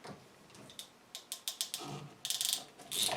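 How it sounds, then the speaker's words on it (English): A crimp ring being crimped onto a PEX pipe fitting with a hand crimping tool, giving a close series of sharp ratcheting clicks followed by a denser burst of mechanical clicking. "So now I put another crimp ring on this piece of PEX. Put it on the fitting. And then crimp it down."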